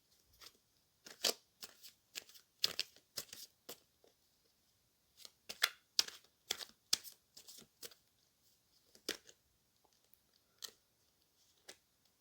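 Cards shuffled and handled for a reading: quiet, close, irregular soft snaps and flicks in scattered clusters with short pauses, no talking.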